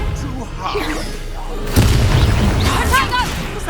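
The Expelliarmus spell cast in Hogwarts Legacy on PS5 lands as a sudden, heavy magical boom midway through, followed by a rumbling burst amid other in-game combat sounds.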